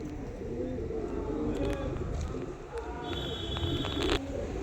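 Andhra pigeons coo in soft, rolling throaty calls at moderate distance, with faint background clatter and a brief high tone.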